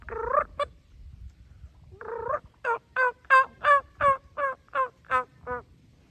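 Turkeys making soft rolling purrs followed by a rhythmic run of clucking yelps, close by in a quiet setting.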